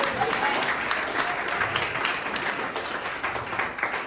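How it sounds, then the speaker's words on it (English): Steady applause from an audience, a dense wash of many hands clapping at even loudness for several seconds. "let's clap it up to celebration"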